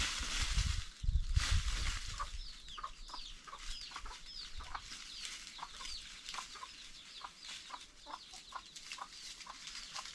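A large, sturdy rooster clucks repeatedly in short, evenly spaced calls, with low rumbling noise in the first couple of seconds and steady farmyard background throughout.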